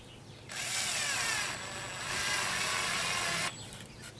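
A power drill drives screws into the roof of a wooden mason bee house, a steady high motor whine running about three seconds with a brief dip in speed midway, close and loud with no talking.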